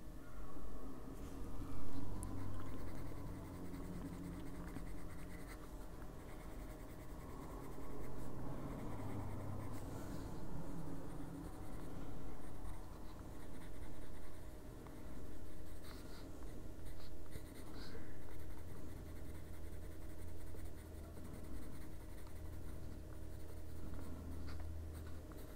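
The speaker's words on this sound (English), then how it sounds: "Pencil's rolling." Colored pencil scratching across a monochromatic Slavic-stories coloring page, a close, continuous rhythmic scribbling of back-and-forth strokes over a low background hum.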